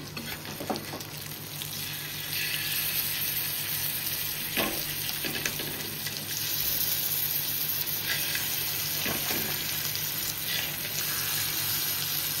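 Fish fries in oil in a pan with a steady, loud, dense sizzle that swells slightly as the pieces are flipped, with a few soft knocks from the utensil.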